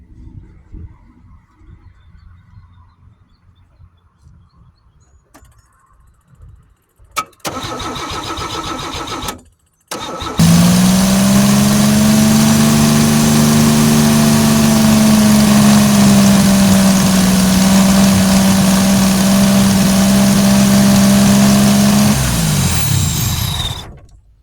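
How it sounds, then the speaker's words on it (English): 1986 Chevy 2.8 V6 running on a carburetor cranks and fires after a few brief attempts, then settles into a loud, steady idle held for over ten seconds before cutting off. "I'm about to go start it up and see if it works."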